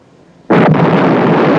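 An explosion in the film Battle for the Planet of the Apes bursts in suddenly after near-silence, a loud sustained roaring blast that holds for about a second before cutting off.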